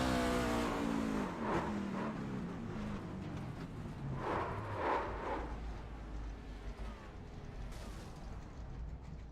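Race car engine accelerating off a corner at Dover during a National Speed Association race, heard onboard as a loud continuous roar that rises and falls with the throttle, with no talk.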